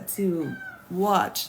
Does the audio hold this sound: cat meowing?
yes